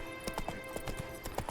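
Roach, a horse in The Witcher 3, trotting with a brisk, regular clip-clop of hooves, fairly quiet and steady with no talking over it.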